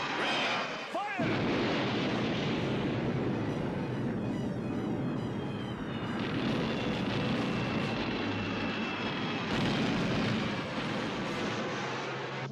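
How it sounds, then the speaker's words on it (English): Heavy, continuous missile explosions from the G.I. Joe cartoon roar with a dense rumbling wash, loud and sustained, with airborne whooshing layered over the blasts. "Incredible explosions! But they missed the ships entirely!"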